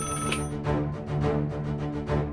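A telephone rings in a repeating pattern of bright, tonal pulses about twice a second, fairly clear and with no one speaking over it.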